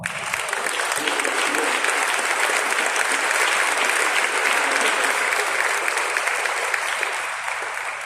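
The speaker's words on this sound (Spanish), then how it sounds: "Vamos a dar un aplauso a Dios, por favor." Audience applause at a church-style talk on social media impact, a steady, dense clapping that fills the whole stretch at a strong level with a faint crowd murmur beneath.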